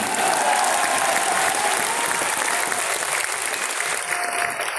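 An audience applauds at an RCM stage event for actor Anupam Kher, a dense, steady wash of many hands clapping loudly throughout without letting up.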